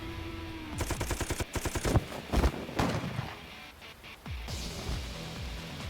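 Gunfire in the game AI: The Somnium Files, rapid bursts of loud shots in quick rhythmic volleys, followed by a few heavier thuds and quieter rumble.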